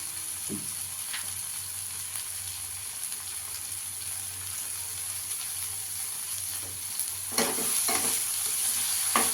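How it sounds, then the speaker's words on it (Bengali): Coriander leaves being stirred into cooked masala in a pan for a masala egg omelette, giving a steady low sizzle with occasional scraping strokes that grow a little louder near the end. "ধনেপাতাটা দিয়েও একটু কষিয়ে নেব।"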